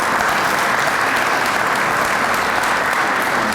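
Audience applause for new Heritage Society members at a University of Dubuque ceremony: steady, dense clapping from a large crowd that holds evenly loud throughout, with no voices above it.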